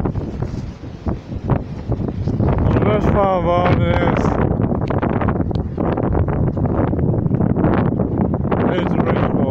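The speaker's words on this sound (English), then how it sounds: "it's very windy here." Strong wind gusting across the mic at Ayr racecourse, a loud continuous roar that builds and stays heavy under a person speaking.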